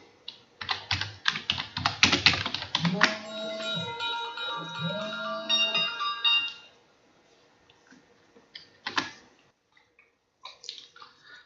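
Rapid bursts of clicking keys on a computer keyboard while a company name is entered for a letterhead design, followed by electronic tones, then a few scattered keystrokes after a quiet gap.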